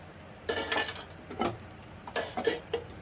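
A large spoon adds oil to a heavy-bottomed kadai on a gas stove, giving two clusters of sharp metallic clinks and taps against the pan with quiet pauses between them.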